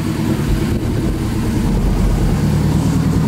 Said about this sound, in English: Full titanium exhaust.